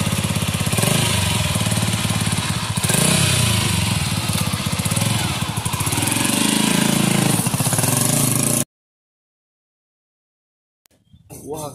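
A motorcycle engine runs loudly and roughly up close for about nine seconds, then cuts off abruptly into silence before a faint noise returns at the end.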